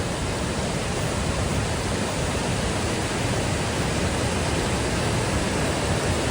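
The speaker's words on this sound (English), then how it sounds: "Look at the waterfall behind me." Steady, loud broadband rush of a waterfall in the mountains of Bosnia, a continuous roar of falling water filling the whole clip without breaks, close by and with no voices.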